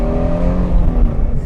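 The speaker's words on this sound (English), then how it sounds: "you can wake up in the morning, put it in loud mode, and scare some neighbors" A Shelby Mustang's engine, set to its loud exhaust mode, roars close and very loud as one sustained revving drone with a strong rumbling tone.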